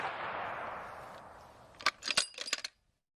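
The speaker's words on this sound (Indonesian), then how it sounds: "Rupanya ini mainan tembak-tembakan ataupun mainan sniper" A toy sniper rifle fires a rapid burst of sharp plastic clicks and snaps near the end, after a fading hiss, with no talking.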